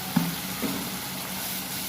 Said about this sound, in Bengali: একটু ভালো করে কষিয়ে নিতে হবে মশলাটাকে